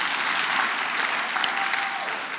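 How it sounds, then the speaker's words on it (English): Steady applause from an audience at a county state-of-the-address event in Clayton County, celebrating a new park, sustained for a couple of seconds at even volume. "give that a round of applause"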